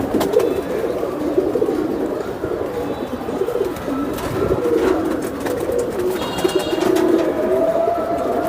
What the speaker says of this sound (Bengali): এগুলো তো অনেক বড় কবুতর